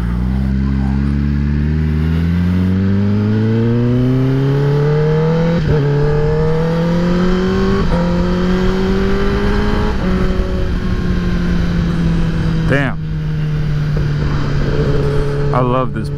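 A 2021 Kawasaki ZX10R motorcycle engine revs repeatedly, pitch climbing and dropping in several rising sweeps with sharp throttle blips, loud and close, with a voice speaking briefly over it.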